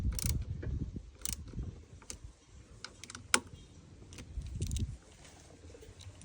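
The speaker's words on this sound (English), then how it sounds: "we take the brake pump off and put the new one on" A motorcycle brake pump is unbolted from the handlebar and a new one fitted, producing close metallic clicks, taps and rattling handling noises in an uneven sequence with low rumbling movement underneath.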